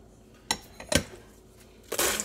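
Pretzels, popcorn and goldfish crackers poured into a bowl for trail mix, three short rattling clatters spaced apart, quiet and close.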